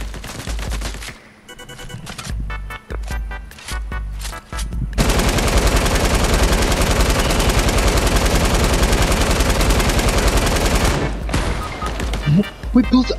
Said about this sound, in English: I shot the gun.